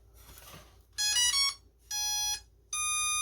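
Three loud electronic tones sound in sequence, each a bright buzzing beep lasting about half a second, over a low background hum.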